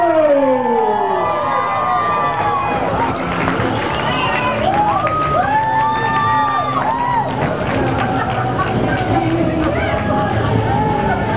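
Studio audience on a TV bench-and-rig competition show in Atlanta cheering and whooping loudly, with crowd shouts and rising yells sustained throughout the clip.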